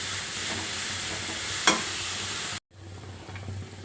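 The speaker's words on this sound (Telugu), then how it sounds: "ఈ గాజర్ సన్న సెగన బాగా వేగాలి." Grated carrots for gajar halwa frying on a low flame give a soft, steady sizzle with one sharp stirring clink, then a brief cut before the quieter sizzle resumes.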